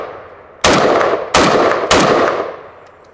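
Three loud, close rifle shots from a PSA Krink fired in fairly quick succession, each a sharp crack followed by a ringing decay, with no talking.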